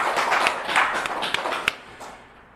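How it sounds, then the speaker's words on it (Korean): A congregation claps during a Korean church service, a brief burst of dense hand claps that thins out and fades within a couple of seconds. "여러분 하나님께 영광의 박수 돌립시다."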